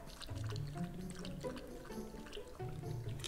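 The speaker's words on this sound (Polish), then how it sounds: "Mamy tutaj taki przycisk, dzięki któremu możemy nalać wodę do naszego podajnika" Water is pumped into the drinking tray of a portable dog water bottle, a faint trickling pour with small drips, soft and close.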